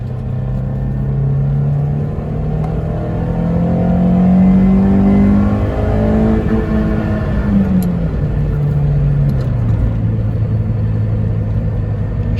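An AP1 Honda S2000 with its F20C engine, fitted with an AP2 transmission, accelerates through the gears on a business park road. Steady close engine rumble rises in pitch, drops at each shift and climbs again, with no talking.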